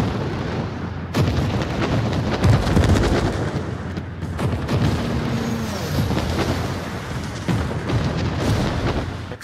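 Naval gunfire rumbles through a World of Warships battle, with repeated heavy booms and blasts rolling over a constant low roar of combat, loud and dense throughout.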